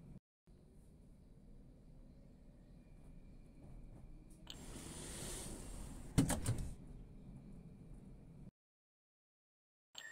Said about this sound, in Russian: Осторожно, двери закрываются.